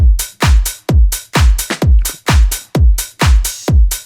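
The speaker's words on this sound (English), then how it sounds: "Having this like long open hat on the turnaround here it gives a real nod to disco drums" House drum beat in a disco style, a punchy kick on every beat with a long open hi-hat hissing on the turnaround and a snare answering it. Loud, steady four-on-the-floor groove with no voices.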